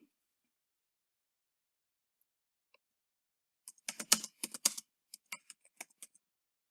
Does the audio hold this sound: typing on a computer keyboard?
yes